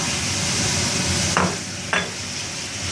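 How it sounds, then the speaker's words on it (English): Seasoned food with onions and cheese is stirred in a hot pan, a steady sizzle running throughout with two sharper scrapes of the spoon against the pan, close and alone without talk. "we're gonna stir everything"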